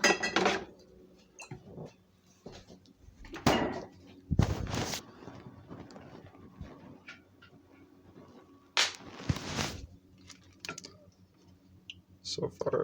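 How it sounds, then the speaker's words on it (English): Scattered metallic clinks and scrapes from stirring homemade curry ramen with tamari sauce in a pot, arriving in short irregular bursts over a quiet kitchen background. "I'm going to stir this now"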